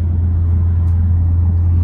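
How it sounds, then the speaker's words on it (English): A tuned stage 2 Audi S3 drones steadily from inside the cabin while driving, a deep, loud and constant low engine hum with no other sounds over it. "I can't express how much I love hearing this car, bro"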